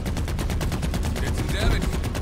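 Rapid automatic gunfire in Halo Infinite during a zone-capture multiplayer match, a dense steady stream of shots with a brief electronic tone near the end.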